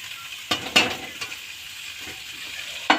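Potato pieces go into a frying spice masala for an egg and potato dalna, starting a steady close sizzle broken by a few sharp clacks of the spoon against the pan.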